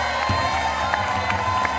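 A studio audience at a comedy boxing show applauds and cheers, a dense crowd roar with scattered whoops, steady and fairly loud.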